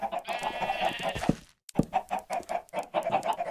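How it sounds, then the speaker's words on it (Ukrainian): Minecraft chickens cluck close by, a busy stream of clucks and squawks with a short pause in the middle. "Кури."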